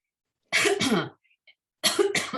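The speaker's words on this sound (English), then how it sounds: "this letter makes me cough when I say it a lot." Two quick coughs, a short pause, then two more coughs, close and clear with no talking.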